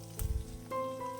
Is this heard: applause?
no